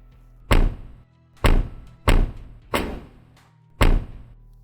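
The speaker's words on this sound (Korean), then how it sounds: "쾅! 문이 내 코앞에서 닫혔다." Five heavy door thuds land in irregular succession, each a sharp slam against an apartment door with a short decaying boom, loud and close with near silence between.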